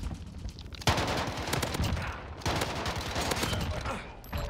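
Mini Uzi automatic fire in the video game Modern Warfare crackles in rapid, dense bursts, with a brief pause between volleys, close and loud throughout.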